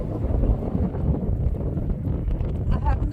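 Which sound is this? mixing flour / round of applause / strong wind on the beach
strong wind on the beach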